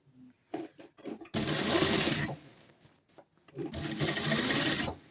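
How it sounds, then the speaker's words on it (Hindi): A sewing machine stitching a 22-inch piece of elastic into a loop, heard as two close bursts of rapid mechanical stitching separated by a short pause, with a few light clicks before the first run. "अब इसको हमने गोलाई में सिलाई लगा लेनी है।"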